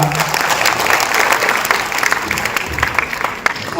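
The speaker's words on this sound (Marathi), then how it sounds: "एकदा जोरदार टाळ्या" Loud, sustained applause from a crowd at a book launch ceremony for a book on Sant Muktai's abhangs and life story, with dense clapping filling the whole stretch.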